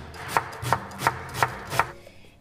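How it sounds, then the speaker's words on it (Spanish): Knife chopping an onion on a cutting board for a cheesy filling: five crisp, evenly spaced chops in a steady rhythm, close and clear with no talking. "Para el relleno vamos a picar una cebolla"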